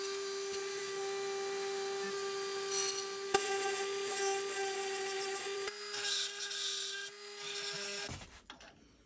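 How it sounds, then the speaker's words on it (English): A Dremel rotary tool smooths a pocket in a carbide scraper, giving a steady high-pitched whine with gritty grinding. The pitch shifts slightly partway through before the tool spins down at the end. "I'm just gonna go in with a Dremel and just smooth it out consistent and try and create a wee dovetail pocket."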